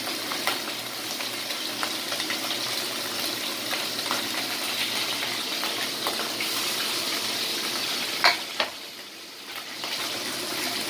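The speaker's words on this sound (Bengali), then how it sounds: "ট্যাংরা মাছ কিন্তু ফাটে তেলে তেলে" Tangra fish with roe fry in hot oil, a continuous spluttering sizzle with scattered pops and a couple of sharper crackles near the end, steady and close throughout.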